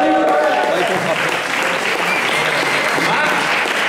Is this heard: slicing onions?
no